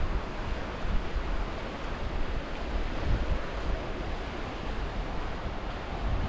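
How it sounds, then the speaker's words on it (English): High river water rushing past under a bridge in Calgary, a broad, steady roar of flowing water with some wind noise and no talk. "River's still up pretty good."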